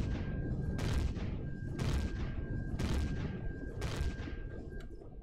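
Heavy weapon fire pounding a missile silo in the Empyrion space survival game, roughly four loud broadband bursts about a second apart over a dense rumbling bed, with a steady tonal whine running throughout.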